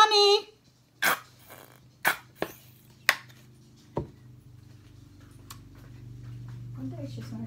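A dog lets out several sharp, loud barks spaced about a second apart, with a brief growl at the start, all close by and standing clear of a quiet indoor room.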